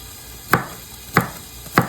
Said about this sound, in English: So I'm going to just cut these in little squares